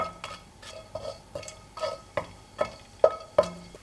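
One star anise and a few Sichuan peppercorns frying gently in oil in a wok over low heat, with a series of soft clinks and scrapes from a spatula stirring at an irregular, unhurried pace.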